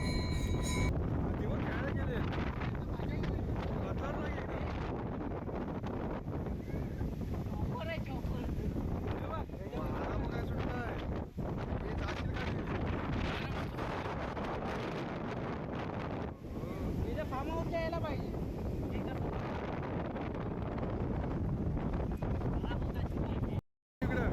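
Strong wind roars steadily across the microphone by the sea, with surf rumbling underneath and faint voices in the background.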